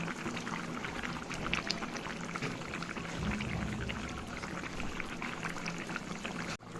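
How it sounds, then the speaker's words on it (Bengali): Fish curry with cauliflower and potato boils in a pot, giving a continuous bubbling, churning rumble with a dense watery hiss. It is close and steady throughout, with no voices, and ends in a brief sharp cutoff. "মাছ দেওয়ার পর ঝোলটা ভালো করে ফুটে গেছে।"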